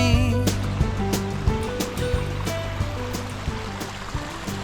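The Krimml waterfall in Austria gives a steady, broad roar of rushing water, heard from nearby, with scattered irregular knocks over the constant wash.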